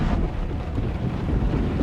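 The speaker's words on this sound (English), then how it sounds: "Look, the tornado." Roaring tornado wind in the road-trip mystery game Hitchhiker blasts steadily as a dense, loud rumble of gusting air with no letup and no speech.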